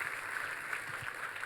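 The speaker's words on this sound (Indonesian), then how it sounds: "tepuk tangannya yang paling meriah buat Tuhan kita" A church congregation claps together during a sermon in praise of God, producing a steady dense patter of applause throughout.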